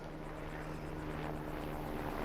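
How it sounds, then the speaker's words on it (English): Helicopter flying in Farming Simulator 22, a steady droning rotor and engine hum with a faint pulsing beat, held at a low, constant level throughout. "Helicopter again."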